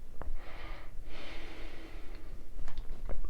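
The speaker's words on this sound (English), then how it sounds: "So give retronasal breathing a try" Breath drawn and pushed out through the nose while tasting wine, a close, airy rush lasting about a second, followed by softer sniffs and small mouth clicks.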